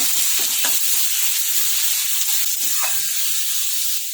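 Grated capsicum, onion, tomato and carrot sizzle loudly in a hot pan, a steady hiss with occasional scraping from a spatula.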